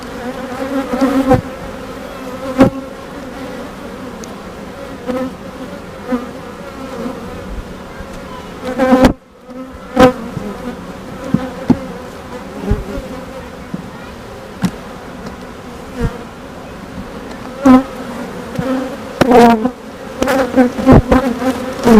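Honeybees buzz around an open beehive frame that holds capped brood and pollen stores, a dense, continuous close drone with sharper passes as single bees fly near, and no voices.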